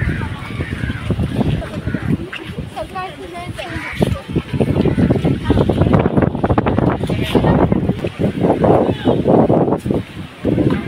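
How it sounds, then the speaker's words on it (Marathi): Strong wind blowing at Chaityabhoomi by the Mumbai seafront, with constant loud gusts buffeting the microphone while people talk nearby and crowd noise goes on in the background. "खूपच वारा सुटलेला आहे."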